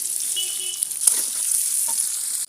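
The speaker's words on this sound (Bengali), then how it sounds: "তেল দিয়ে দেব, প্রথমে দিয়ে দেবো পেঁয়াজ কুচি" Chopped onions hit hot oil and sizzle with a bright, steady hiss and a single clack of a utensil midway, close and alone.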